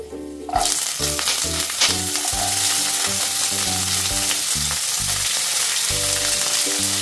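Broad beans hit hot oil in a pan and sizzle loudly and steadily, a bright continuous frying hiss with no talking over it.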